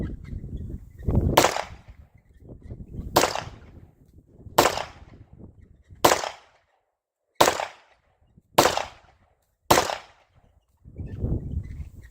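A Tisas Yukon 10mm pistol fires factory ammunition outdoors, seven sharp loud shots spaced roughly a second or more apart, each with a brief echoing tail, with rustling handling noise between the first few.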